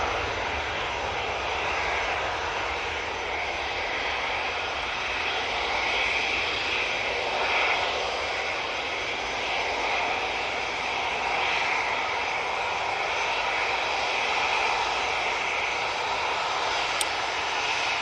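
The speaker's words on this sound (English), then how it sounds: "There goes that 737-800." A Boeing 737-800 jet departs Manchester Airport, its engines a loud, steady roar that holds evenly throughout with no voices over it.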